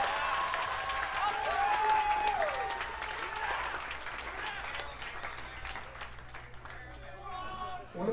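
Concert crowd at a hardcore show applauding and cheering steadily for several seconds, a dense wash of clapping filling the room before it thins out near the end.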